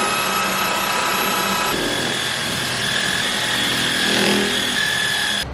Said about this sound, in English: I aerate using a drill.